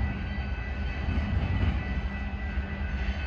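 A Metra Milwaukee West Main Line train arriving at Franklin Park station gives a steady, loud low rumble of rolling wheels and engine, continuous and close, with no voices over it.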